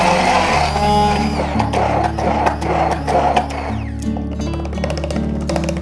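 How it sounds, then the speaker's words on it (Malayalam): A hand blender's jar whirs as it purees onion, tomato and coconut milk for a chicken curry, a loud motor whine that rises and dips in pitch in bursts, with no speech. "അടുത്തതായിട്ട് നമ്മളുടെ ഹാൻഡ് ബ്ലെൻഡറിൻ്റെ ജാർ കൊണ്ട് നമുക്ക് നന്നായിട്ടൊന്ന് ബ്ലെൻഡ് ചെയ്തെടുക്കാം"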